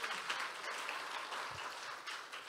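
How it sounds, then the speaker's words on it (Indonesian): Congregation in a church clapping together during a worship service, a steady dense wash of applause filling the room at moderate level without a break, no voices standing out. "Yang semangat boleh berikan tepuk tangan buat Tuhan Yesus."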